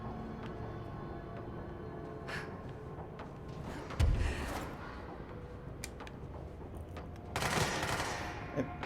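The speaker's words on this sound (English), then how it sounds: "I know, you're shooting at me." Gunfire from enemies in the video game Control crackles as a steady, distant volley, with a heavier burst near the middle and another toward the end, over continuous game ambience.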